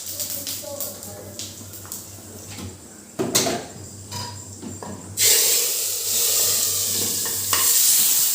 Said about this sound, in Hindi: जीरे वाला तड़का मैं रायते में लगाती हूँ।